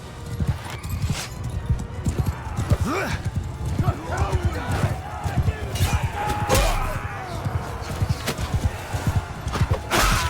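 A horse in the medieval combat game Mount and Blade II Bannerlord gallops with rapid, rhythmic clip-clop hoofbeats throughout, loud and close, with a neigh and battle clatter mixed in while a player talks over it.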